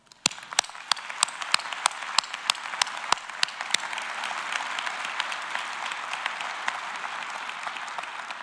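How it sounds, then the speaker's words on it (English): Audience applause for graduates at a university commencement, starting with a few loud, distinct individual claps up close that build into steady, moderate crowd clapping. "So I want to ask everyone else in joining me in a round of applause to thank these"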